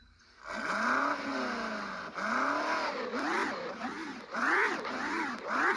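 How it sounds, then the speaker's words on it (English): Sport exhaust on a car revving in a series of quick throttle blips, with rising and falling engine pitch, close and fairly loud with no talk over it. "let's take a listen to the sport exhaust on."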